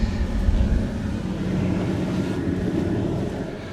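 Chevy truck's air vents blowing on max fan with recirculate on and the AC off, a steady low whooshing rush of air, close and continuous, easing slightly toward the end.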